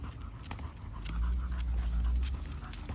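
A dog pants rapidly and steadily up close, quick breathy huffs running throughout over low background rumble.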